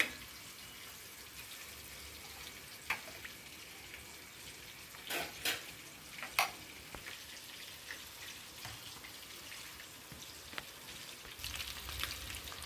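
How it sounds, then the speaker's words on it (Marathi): Paneer frying in a pan while a catering order is prepared gives a steady, fairly quiet crackling sizzle, broken by a few sharper pops and spatters, with no talking. "इथे पनीर तळून घेत आहे मी"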